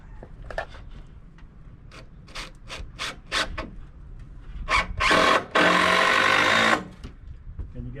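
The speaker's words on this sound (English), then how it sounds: "So run a screw through this rafter into that." A screw is driven through a roof rafter during a roof extension build. A series of short, sharp bursts from a power driver is followed by a longer, loud whirring run as the screw seats.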